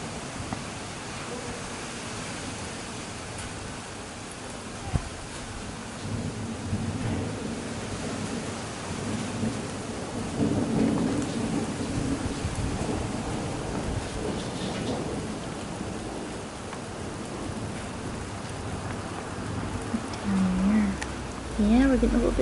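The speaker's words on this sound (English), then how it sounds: "we're getting a little bit of rain." Light rain patters steadily outdoors with low rumbles of thunder rolling underneath, a continuous soft wash that swells slightly midway, with a few faint voices in the background.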